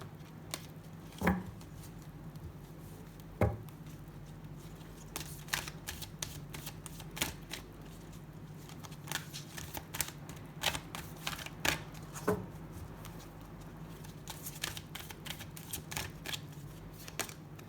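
Oracle cards being shuffled by hand, close and quiet, with irregular bursts of crisp flicking and riffling separated by brief pauses and occasional soft taps, with no talking.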